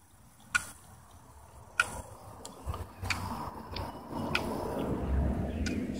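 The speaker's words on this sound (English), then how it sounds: "You can hear the mixer" A fertilizer mixer on a drip irrigation system in a pepper field ticks at irregular intervals, with sharp clicks over a low outdoor rumble of running water.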